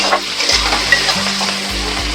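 Onions sizzle lightly in oil in a pan for a Bengali chicken dish cooked with milk, a steady close frying hiss with occasional stirring scrapes.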